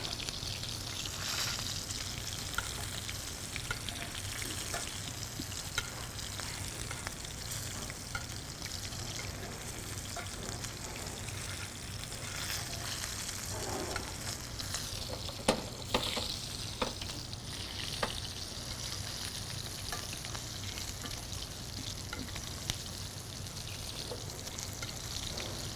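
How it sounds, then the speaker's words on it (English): A steak sears in a hot pan for about three minutes a side, giving a dense, continuous sizzle and crackle that holds steady throughout, with scattered sharper pops and spits rising above it. "So that was a good sear, about 3 minutes on each side"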